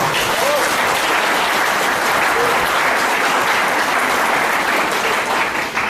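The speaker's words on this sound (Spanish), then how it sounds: "Un aplauso para la maestra, por favor." Dense, sustained applause from a large audience at a panel discussion, loud and continuous throughout with no pauses.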